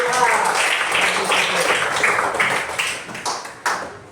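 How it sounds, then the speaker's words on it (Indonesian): Classroom of pupils claps for a classmate after a correct answer in an Indonesian science lesson, a dense burst of many hands close by, thinning into a few scattered claps toward the end. "Berikan tepuk tangan untuk"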